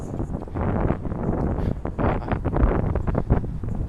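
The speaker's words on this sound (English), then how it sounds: "It's still windy, which you probably hear." Outdoor wind buffeting a microphone on a rainy day, producing loud low rumbling gusts that swell and fade irregularly, close and dominant with no talking.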